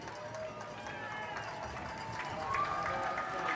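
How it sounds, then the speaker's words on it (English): High school football fans at Rockingham County stand and cheer as the team jogs out carrying American and North Carolina flags, a broad distant crowd roar that swells toward the end, with an announcer's voice over it. "Fans stand to their feet and cheer as Rockingham jogs out with an American and North Carolina flag."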